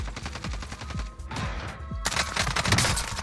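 SMG gunfire in a first-person shooter video game: rapid automatic bursts with short gaps between them, sharp and loud, with no talking.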